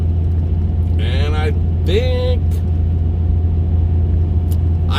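A car driving along a road in Saskatchewan gives a steady, loud low rumble and road drone throughout, while someone speaks briefly over it.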